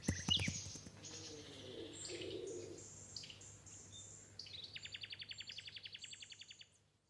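Birds sing and chirp in the open, a willow warbler's rapid pulsing trill coming in near the end over a faint low hum.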